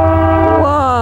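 A passing train near a rail junction, heard as a loud, close, sustained horn-like tone with a rich harmonic stack that bends slightly in pitch, with no talk.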